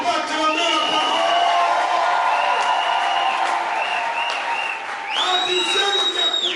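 A congregation at a church service applauds and cheers loudly and steadily, with whoops and shouts rising over sustained clapping.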